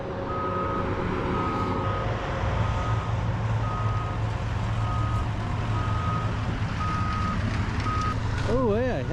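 Heavy landfill machinery drones loudly while a truck's reversing alarm beeps steadily in the background, with trucks backing up and dumping and Caterpillar 826C compactors pushing trash; someone talks over the constant engine rumble.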